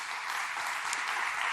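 A church congregation at a Sunday afternoon service claps together, a dense, steady burst of applause filling the room for a moment, with no voices.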